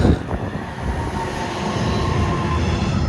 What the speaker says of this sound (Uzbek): U poyezd kelyapti. Deutsche Bahn.